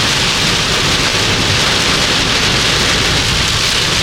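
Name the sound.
rain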